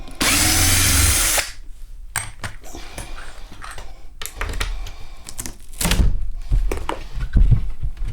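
Cordless screwdriver backing screws out of a 1964 Fender Tremolux amplifier cabinet, one loud sustained whir followed by scattered knocks, clunks and handling noises close by, with no talking.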